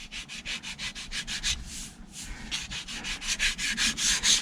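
Hand sanding with light pressure on a scratch in a leather steering wheel, a quick rhythmic series of close rasping strokes with a brief pause midway, no voices.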